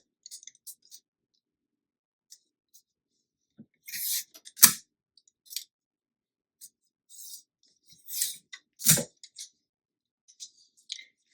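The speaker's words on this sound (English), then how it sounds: "Next, I'm going to use some heat tape to tape it down." Heat tape pulled from its roll and pressed down to hold a sublimation print on a T-shirt, heard as short tearing rips and scattered clicks separated by quiet pauses, close by with no talking.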